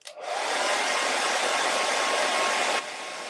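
A hair dryer drying paint on a wooden door hanger, roaring loud and steady from close by for about three seconds before the pitch drops to a lower setting, with no talk.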